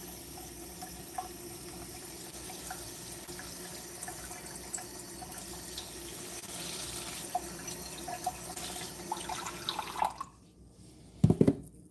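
Cold water runs steadily from a kitchen tap for about ten seconds, a continuous hiss and splash, then cuts off and a few clunks and drips follow close by.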